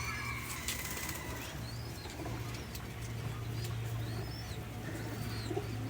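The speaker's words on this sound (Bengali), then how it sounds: "দেখুন মাদি কবুতরটা দেখুন" A female pigeon coos softly while wings flap now and then, with low faint murmurs of other birds nearby in a steady, busy background.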